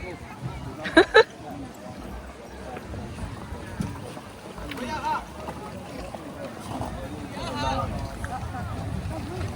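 Small boat moving over water at Dapeng Bay, Shenzhen, with soft splashing and wind, people chatting nearby and a couple of loud knocks early on.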